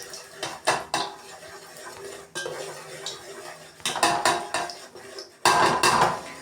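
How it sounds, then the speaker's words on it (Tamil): Gram flour is stirred into sugar syrup in a pan for Mysore pak. A spoon scrapes and clanks against the metal pan in uneven bursts, with short pauses between the loud knocks. "ஒரு பக்கம் கிண்டிக்கிட்டே இருக்கணும். ஸோ அடி பிடிக்காத அளவுக்கு நல்லா கிண்டிக்கோங்க."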